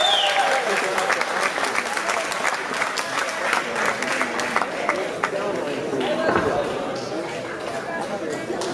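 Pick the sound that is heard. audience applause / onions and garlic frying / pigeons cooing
audience applause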